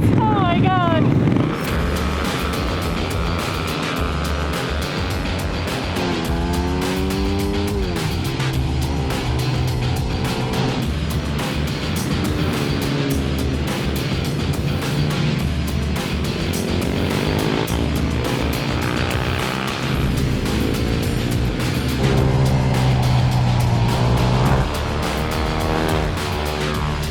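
Mini bikes race around a circuit, their small engines buzzing loudly and continuously as they rev and pass, with occasional voices heard under the engine noise throughout.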